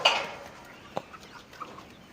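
A few faint clucks from chickens at an open-range poultry farm shed on a hot afternoon, brief scattered calls in a quiet setting.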